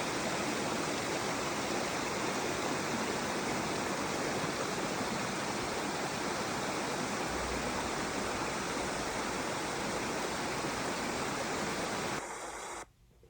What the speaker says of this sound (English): a little longer video showing the difference in the Silver Cascade in the winter season